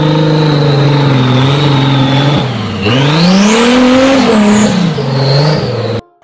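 A toy off-road car's small motor revs loudly and steadily, its whine rising and falling in pitch before cutting off abruptly near the end.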